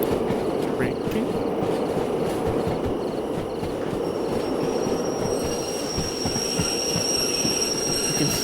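DH4 locomotive in the Derail Valley game braking on the line, a loud continuous rumble of wheels on rail with steady rhythmic clatter and a thin squeal rising toward the end, no voices.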